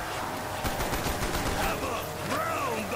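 Rapid video game gunfire, a dense run of close, loud shots fired off in quick succession over a steady noisy background, with some tonal game sounds near the end.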